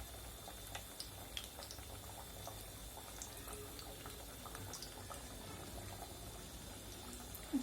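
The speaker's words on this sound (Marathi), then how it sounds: "मंद आचेवरती तळा, जेणेकरून ते क्रिस्पी होतील." Semolina french fries frying slowly in hot oil over low heat give a continuous soft bubbling sizzle with scattered small pops, faint and steady, and no voices.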